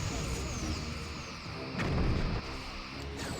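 Torpedoes fire in the space combat game Star Trek: Bridge Commander. A loud, dense rumble of launch blasts and whooshes rises and swells near the middle of the clip, then drops off again.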